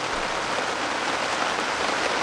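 Heavy rain clatters steadily onto a carp-fishing bivvy at a fishery lake, a dense, continuous hiss with no let-up and no voices.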